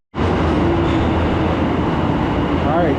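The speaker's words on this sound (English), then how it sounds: "All right, train is right on time." A train pulls into a station in Akihabara, Japan, a loud steady rumble of wheels and motors filling the platform, with a faint brake squeal rising near the end.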